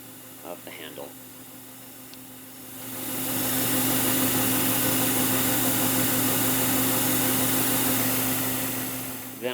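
A belt grinder's 2-inch wheel roughs in facets on the back half of a knife handle, a loud steady broadband grind starting a few seconds in over a constant motor hum, with faint talk at the start.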